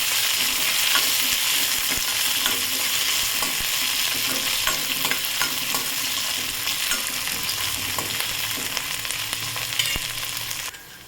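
Onion and coriander being sautéed in a pan give a dense, steady sizzle throughout, with occasional light stirring clicks, close and loud.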